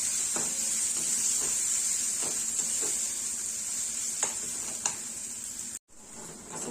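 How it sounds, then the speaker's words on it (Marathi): Black masala sautéing in a pan for chicken curry, a steady, even sizzle with a few soft scraping clicks of stirring scattered throughout and one brief cut near the end. "आणि छान लालसर होईपर्यंत हा मसाला आपल्याला इथे परतून घ्यायचा"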